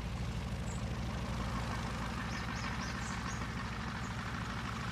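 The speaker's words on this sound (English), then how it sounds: "I'm just gonna taxi over to where I take off." Propeller airplane engine running steadily while taxiing along an airfield runway toward takeoff, a continuous low throbbing rumble at an even level.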